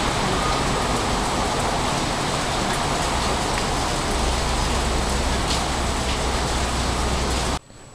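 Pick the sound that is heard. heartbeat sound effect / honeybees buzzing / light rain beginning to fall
light rain beginning to fall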